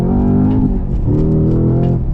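A Cadillac CT5-V Blackwing drives on the road, its engine giving a steady, loud, rich drone with harmonic bands that swell and ease slightly as the throttle shifts, continuous throughout with no talking.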